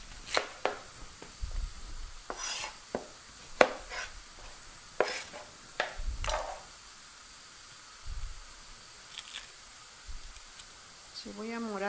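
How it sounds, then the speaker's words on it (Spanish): A knife chops red onion on a board in a kitchen, with a series of sharp, close, irregular taps and soft sizzling underneath. "A picar la cebolla"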